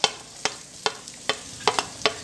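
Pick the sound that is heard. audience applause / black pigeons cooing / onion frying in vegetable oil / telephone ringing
onion frying in vegetable oil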